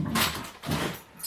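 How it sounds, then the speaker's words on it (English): Dogs barking loudly indoors nearby, two broad harsh barks about half a second apart with a short fading tail, heard alone without any speech. "The dogs are so loud."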